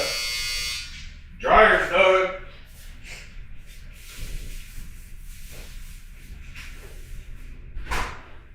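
A clothes dryer's end-of-cycle buzzer sounds loudly in two close, buzzing bursts lasting about a second, followed by quieter room noise with a person talking.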